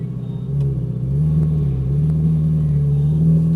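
A Ferrari 458 Italia pulls away and accelerates, its engine a deep, steady rumbling drone that rises slightly in pitch and loudness, heard close from inside the car with no talking.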